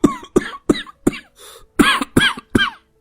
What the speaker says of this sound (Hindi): कब से खांस रहे हैं